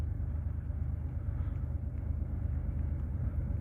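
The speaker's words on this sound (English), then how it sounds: "So here he comes. If he come across the bridge and you'll hear some noise because he had a six axle locomotive doing a burnout on the bridge." Six-axle locomotive freight train crossing a bridge outdoors: a steady, heavy low rumble at moderate distance, continuous and even throughout.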